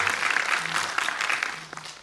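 An audience at a Korean film talk event claps in a steady burst of applause that carries on throughout.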